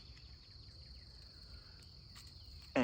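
Crickets chirp in a faint, steady, continuous trill beside a tiny pond, with a brief knock right at the end.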